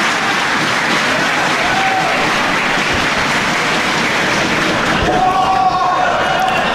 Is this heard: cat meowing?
no